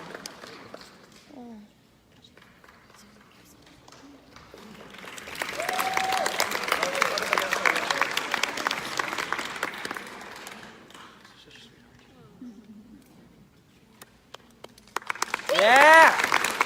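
At a 2019 student showcase, a swell of audience applause with whoops and cheers builds and fades through the middle, with voices talking before and after and a second burst of clapping and cheering at the end.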